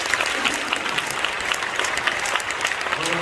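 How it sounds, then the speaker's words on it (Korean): An audience at a church prayer meeting honoring Korean War veterans applauds, a dense, even wash of many hands clapping continuously throughout, fairly loud and with no voices rising above it. "또 한 번 박수 해주시면 고맙겠습니다."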